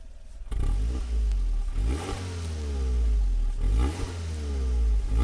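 A 2004 Toyota Yaris 1-litre engine starts and runs with a throaty exhaust note, revving up and down in a few swells, close and loud.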